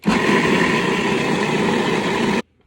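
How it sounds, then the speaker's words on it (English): A food processor blending hummus runs as a loud, steady motor whir with a grinding buzz for over two seconds, then cuts off abruptly, with no one speaking. "And then I just turn it on to process until it's as smooth as I would like it."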